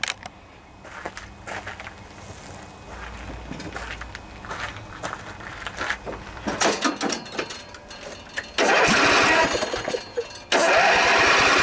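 Briggs and Stratton Intek V-twin engine cranking with a drained carburetor, with footstep-like shuffles and clunks at first, then a loud, steady roar as it catches and runs close by in the last few seconds.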